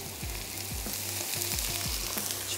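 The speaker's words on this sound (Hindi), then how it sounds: "थोड़ा सा पानी ऐड करते हैं ताकि इसकी अपनी एक स्टीम जो है वो बनना शुरू हो जाए।" Ridge gourd sizzles steadily in a hot pan after a splash of water is added, a continuous close frying hiss with repeated soft scraping stirs, no voices.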